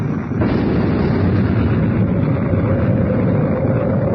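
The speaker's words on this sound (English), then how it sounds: "An explosion inside the Sphinx." A loud, rumbling explosion inside the Sphinx in a radio drama erupts after a brief moment and keeps roaring steadily, deep and close, with no voices.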